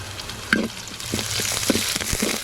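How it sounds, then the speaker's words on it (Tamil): Mustard seeds, onion and curry leaves frying in hot oil, a steady close sizzle with scattered pops and a few stirring knocks, no talking. "கடுகு பொரிஞ்சிச்சு, வெங்காயத்தை சேர்த்துடலாம், கறிவேப்பிலையை சேர்த்துடலாம்"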